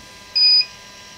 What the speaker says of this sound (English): you can hear it beeping now.